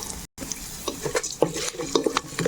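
Curry leaves and asafoetida tempering crackles and sizzles in hot oil with cumin, mustard seeds and lentils, broken by a few stirring scrapes in a short, close burst.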